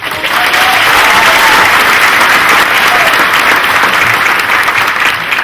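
A staff audience at an agency all-staff meeting applauds a newly appointed deputy, with loud, sustained clapping from a sizable crowd heard up close and unbroken throughout.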